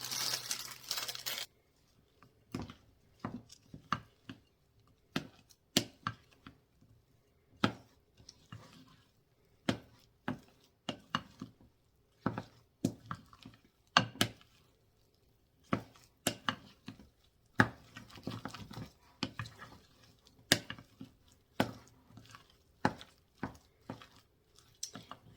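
A knife chops candy into small chunks on a cutting board, giving a steady series of sharp, close taps with short pauses, clear and alone without talk.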